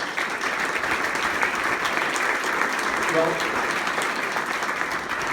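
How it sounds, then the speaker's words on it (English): Steady audience applause fills a chamber luncheon hall, dense and even throughout, with a voice cutting in briefly. "don't clap yet, Gail"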